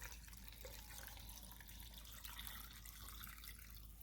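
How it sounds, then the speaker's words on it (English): Water is poured steadily into a pot for birria consommé, a continuous close splashing rush with no break and no voices. "add enough water, kind of fill it about halfway"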